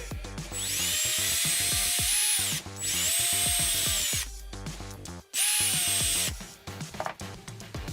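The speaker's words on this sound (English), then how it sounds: "we'll put a pilot hole there and drill through" A power drill whines loudly up to speed in several bursts, drilling a pilot hole into a car chassis with grinding rattles, pausing briefly between runs.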